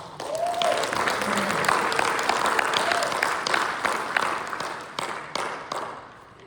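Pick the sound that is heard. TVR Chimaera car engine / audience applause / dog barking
audience applause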